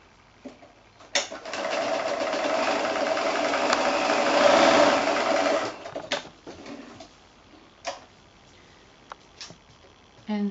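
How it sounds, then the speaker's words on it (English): A sewing machine stitching across a quilt block made from 5-inch squares, one sustained run of rapid mechanical whirring lasting about five seconds, then brief short bursts and clicks, close and clear. "And I'm going to sew right the way across."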